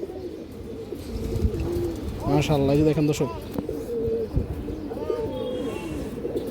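Pigeons coo in a few soft, repeated bursts close by while someone talks over them.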